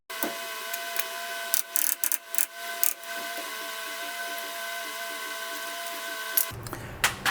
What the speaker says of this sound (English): Need to get this dust cap off.